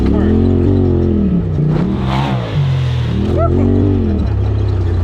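A jump car's engine revs hard in repeated rising and falling surges, loud and close, with brief pauses between bursts as if accelerating toward a ramp.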